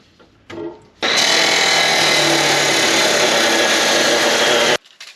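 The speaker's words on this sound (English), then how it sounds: "Cutting gussets that I'm going to weld on here." A power tool cuts steel gussets, half inch by 1 inch, in a shop for a 1939 Caterpillar D4 crawler repair. The loud, steady, high whine runs about four seconds, with a brief burst just before it starts.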